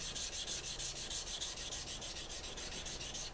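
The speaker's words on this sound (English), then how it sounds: "can go ahead and hand sand this with 800 grit real easily" Hand sanding a custom Bowie knife handle with 800 grit sandpaper wrapped tight around a sanding bar, a steady close rhythmic rubbing of strokes repeating several times a second, with no talk.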